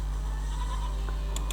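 Sheep bleating from a video game character transformed into a sheep during a battle, a short distant bleat over steady low game hum and background music.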